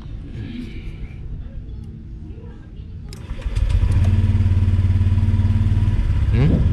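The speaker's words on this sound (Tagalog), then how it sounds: "Try nating i-start." A Honda Click 125i scooter running on a LiFePO4 battery starts up close by with a brief starter whir, then catches into a steady, loud idling putter that continues for several seconds.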